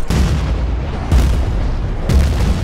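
Mortar shell explosions in the Battlefield Bad Company 2 video game, three heavy booming blasts about a second apart over continuous low rumbling, loud and close.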